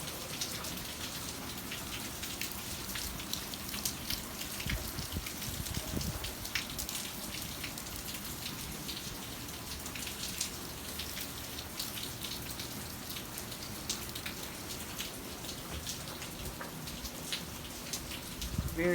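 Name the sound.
rain falling on a patio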